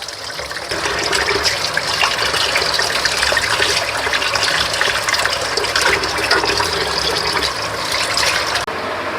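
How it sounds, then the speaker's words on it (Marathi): Tap water gushes steadily for several seconds as Katla fish is rinsed in the kitchen, loud and close with a constant splashing hiss and no voices. "मच्छी मस्तपैकी धुवून घेतलेली आहे आपण"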